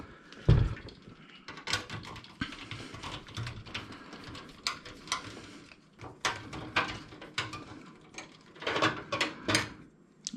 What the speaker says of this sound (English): So let's take these 4 screws out.